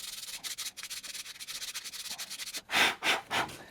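Sandpaper rubs by hand against the curbed alloy wheel of a Tesla in quick, close, rhythmic strokes, with a few louder, longer passes toward the end.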